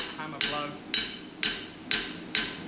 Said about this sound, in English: it's just a progressive flat hammer blow